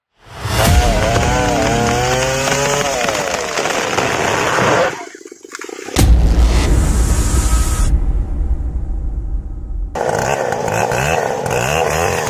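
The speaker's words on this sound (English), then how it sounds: "In the world of logging, the chainsaw is the ultimate symbol of raw power and mobility." A two-stroke chainsaw runs in a forest logging setting, its loud, raw engine note rising and revving in bursts, cutting out briefly, then roaring again at full power with a dense, buzzing snarl throughout.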